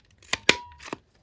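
Paper card being cut with scissors to round its corners: a few crisp snips and short tearing crunches close by, with a brief rasp in between, no talk.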